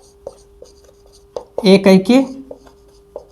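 Writing on a board during a maths lesson makes a few short, sharp taps and scratches, scattered and close, while someone speaks over part of it.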